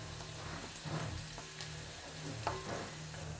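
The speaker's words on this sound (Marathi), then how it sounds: "हिरव्या मिरची सोबतच हिंगही तेलात चांगलं परतून घ्यायचं आहे." Green chillies and asafoetida fry in hot oil with a steady, soft sizzle and a few faint stirring scrapes, heard alone at low volume.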